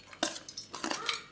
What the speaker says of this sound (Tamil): வெங்காயத்தை பிறகு அரிஞ்சு வச்சுருக்கிறோம். இதை வந்து இதில் கொட்டிக்கிறோம்.